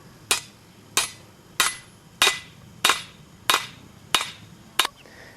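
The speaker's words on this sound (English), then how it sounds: "So we bang that securely into the pre-drilled piece of wood" A hammer bangs a metal peening jig into a pre-drilled wooden stump with eight sharp, evenly spaced strikes, loud and close, each ringing briefly.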